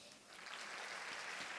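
Audience applause at an environmental gathering in Solapur, a dense steady wash of many hands clapping together, fairly faint and sustained throughout with no voice over it.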